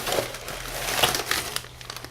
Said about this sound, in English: Newspaper.